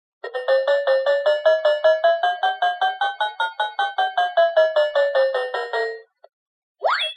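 Bright, bell-like toy piano notes, one octave lower, repeat rapidly for several seconds, the pitch sliding slowly up then back down, followed by a brief rising squeak.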